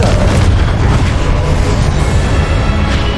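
A Confringo fire spell explodes in Hogwarts Legacy with a loud, heavy boom, and deep rumbling flame rolls on steadily for a few seconds with no voices present.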